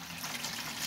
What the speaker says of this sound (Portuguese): Colocando a água limpa agora.